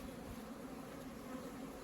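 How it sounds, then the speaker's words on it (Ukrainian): A steady, faint buzzing hum of honey bees flying, continuous and unbroken, with no voices. "Бджола інтенсивно літає."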